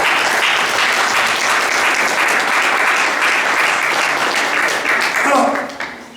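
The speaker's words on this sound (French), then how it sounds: "Nous applaudissons pour Jésus." A church congregation applauding during worship, a loud, dense and sustained wash of clapping with voices mixed in, tapering off over the last second.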